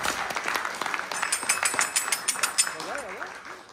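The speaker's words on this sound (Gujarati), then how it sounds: "એકવાર ખાલી બહુ જોરદાર તાળીઓ તમારા બધા માટે" Applause for participants at a Sundarkand recitation in a Radha Krishna temple: a room of scattered hand claps, fairly loud and continuous, with a voice talking over it near the end.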